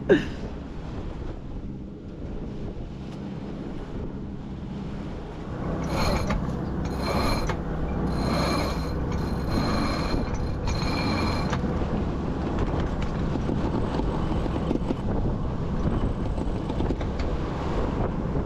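Winch and pulleys let out the genoa on a sailboat, with repeated creaks and ratcheting clicks close by over a steady rush of wind and water.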